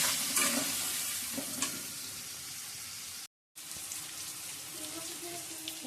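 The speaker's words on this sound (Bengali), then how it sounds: "এবার আমি একটু জল দিয়ে ভালো করে কষানো দিচ্ছি।" A potato, sweet pumpkin and shrimp curry sizzles and fries in a pan with turmeric, salt and a little water while being stirred, a continuous close hiss with scraping stirs and a brief dropout midway.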